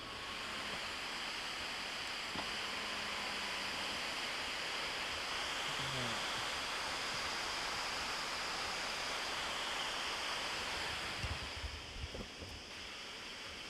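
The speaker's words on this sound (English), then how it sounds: "Let's see if we can hear the water." Steady, broadband rush of Multnomah Falls in Oregon fills the scene continuously, loud and close, with faint scattered background noises.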